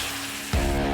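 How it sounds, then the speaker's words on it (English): A loud, steady sizzle of wild game steak in a cast iron pan starts abruptly halfway through, crackling and hissing continuously after a quieter hiss. "the sizzle that stirs something deep in your DNA"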